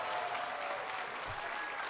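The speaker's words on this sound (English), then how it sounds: "Let's have a round of applause for them as well." Audience applause at the 2023 Bronx Community College 63rd commencement ceremony, a steady, dense clapping from a large crowd that holds evenly through the whole moment without a break.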